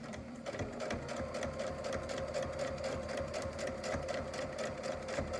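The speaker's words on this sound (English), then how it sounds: "now I'm going to sew this edge shut so the strap doesn't come out." A sewing machine stitches along the edge of a fabric face mask, its needle chattering in a fast steady rhythm that runs unbroken and fairly close.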